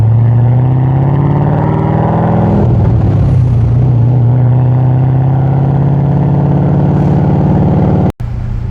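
A modified LS V8 in a Monaro ute revs loudly up close, holding a deep steady burble, then climbing through a sharper rev near the middle before settling and cutting off abruptly near the end.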